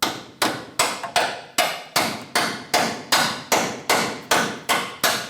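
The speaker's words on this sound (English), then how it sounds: "tap it in with the hammer" Hammer tapping a bolt into the track bar of a 2003-2009 Dodge Ram 2500, a dozen sharp metallic blows in an even rhythm, loud and close with quick decays.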